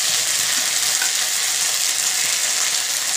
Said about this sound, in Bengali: এবারে এই ডালের বেটে রাখা মশলাটা দিয়ে সবটাকে সাঁতলিয়ে নেব